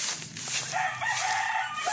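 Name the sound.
chickens, rooster crowing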